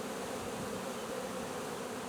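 A swarm of honeybees buzzes near beehives, a dense, steady drone of many wings filling the air without pause, fairly faint and with no voices.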